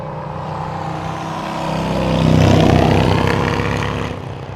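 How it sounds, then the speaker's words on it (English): Two loud Harley-Davidson motorcycles rumble past near an airport, a deep engine roar swelling to a close peak in the middle and then fading away without fully dying. "Two rather loud Harley Davidsons gone by."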